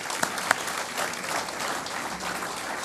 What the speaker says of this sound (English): So if you would, one more round of applause for Marcos.